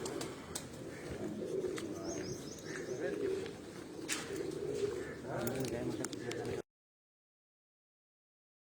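Pigeons on a Punjabi rooftop loft coo softly and intermittently against a steady outdoor background, with occasional chirps and a voice talking faintly, before the sound cuts to silence.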